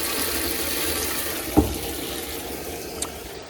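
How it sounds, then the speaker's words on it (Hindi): Water runs from a tap into a container in a steady, broadband rushing stream, with a couple of brief knocks partway through, and nobody talks over it. "अब टोटी से पानी भरेंगे"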